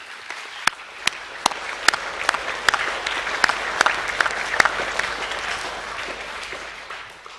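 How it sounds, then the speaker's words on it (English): An audience applauds boys receiving academic awards at a school assembly, with steady, full clapping and a few sharp, close individual claps cutting through before the applause fades. "Can we give them all a round of applause, please?"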